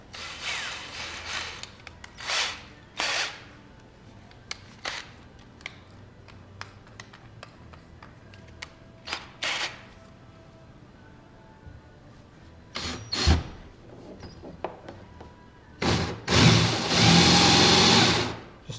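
A power drill with a hole saw bites into a boat deck while cutting holes for a pilot hatch, short bursts of whirring and grinding separated by pauses, ending in a longer loud continuous cut.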